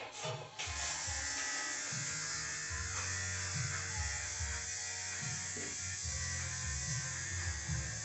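Electric clippers buzz steadily while shaving a dog ahead of its bath, a close, continuous hum with slight pitch wavering as the blade moves through the coat.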